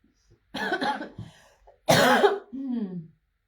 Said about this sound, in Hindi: सर दर्द, खांसी बहुत है